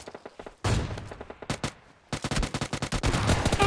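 Rapid gunfire in a shooter video game: a short burst, a pause, then sustained automatic fire with sharp, close, loud shots and no talking.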